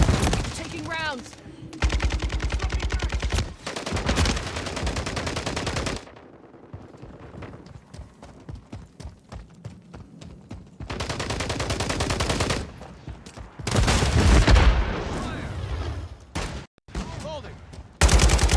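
Rapid bursts of automatic gunfire and single shots in a first-person shooter video game, loud and close, firing in dense clusters with short quieter gaps and brief game voice callouts.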